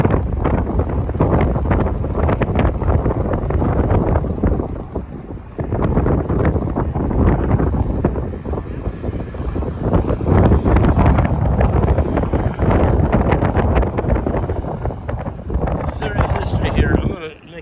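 Strong, gusting wind roars across an open outdoor site at the Berlin Wall on a hot day, loud and continuous, buffeting the microphone with heavy rumble, while people speak intermittently beneath it.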